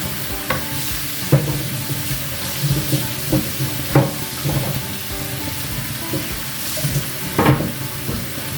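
Pork and pork liver sizzle steadily in a hot pan while a utensil stirs and scrapes in irregular bursts, with a few louder clatters as potatoes are added to the stir-fry.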